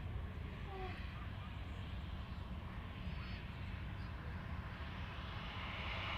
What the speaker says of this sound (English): Just flown in from Alicante. It's an Airbus A320 Series 200.